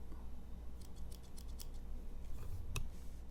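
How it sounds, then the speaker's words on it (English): Scissors on a budget 15-in-1 multi-tool, a Leatherman Wave clone, being locked and folded away, heard as a series of close, crisp metallic clicks and snips over a quiet background, with one sharper click near the end. "And even the scissors have that same locking right there."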